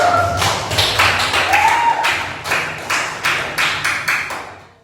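A small group clapping hands in a classroom lesson, about a dozen sharp, evenly spaced claps in a steady rhythm, close and fairly loud, ending abruptly with no talk.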